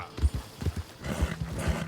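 A horse gallops in the video game Red Dead Redemption, with rhythmic, close hoof clip-clops and heavy thumps repeating at an even pace.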